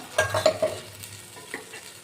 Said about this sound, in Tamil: அதுக்கு பிறகு மசாலா தண்ணியும் ஊற்றுவோம்